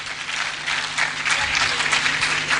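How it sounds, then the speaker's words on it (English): Audience at a conference breaking into applause, a steady wash of clapping hands from a crowd, sustained and fairly loud without talk. "Please clap for her."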